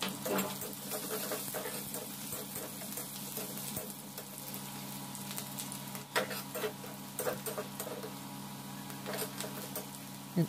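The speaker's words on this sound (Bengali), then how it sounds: "পেঁয়াজ রসুন একসাথে ভালোভাবে ফ্রাই হয়ে গেছে" Onion and chopped garlic frying together in a pan, a steady soft sizzle with light crackles and a few stirring taps across the whole stretch, moderately close.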